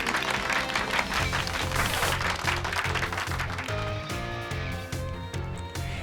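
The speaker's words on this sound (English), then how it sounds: "Give Pikachu a round of applause, everyone!" Video game crowd applause from Pokémon Violet rolls on as a steady, dense clapping wash layered over looping upbeat game music, loud and continuous throughout.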